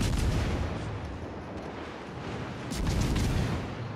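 Warship main batteries boom in the naval combat game World of Warships: Legends, heavy rumbling salvos that swell and fade with a fresh sharp volley near the end, loud and close, with no talking.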